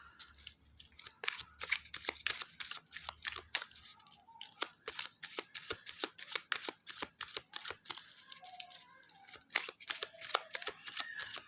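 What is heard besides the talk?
shuffling and drawing a tarot clarification card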